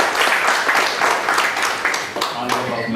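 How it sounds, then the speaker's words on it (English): An audience at a professional breakfast meeting claps after an interactive session, steady dense applause close and loud, easing slightly near the end as a voice emerges underneath. "A round of applause for that"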